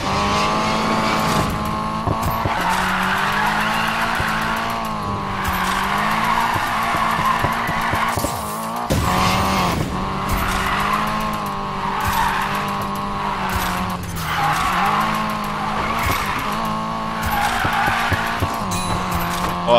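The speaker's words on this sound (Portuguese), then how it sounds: "600 metros de drift foi dado." A Nissan Silvia drifts in the racing game Need for Speed Payback, its engine revving high and bouncing off the limiter while tires squeal in long sustained skids, loud and continuous with brief shifts in pitch between slides.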